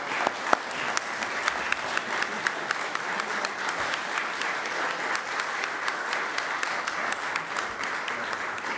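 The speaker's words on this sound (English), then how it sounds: "Let's have one more round of applause for Gentleman Jerry Cooney." Steady applause from an audience at a St. Patrick's Day Irish flag raising at Paterson City Hall, honouring Senator Jerry Cooney, with crisp individual claps throughout and no talk over it.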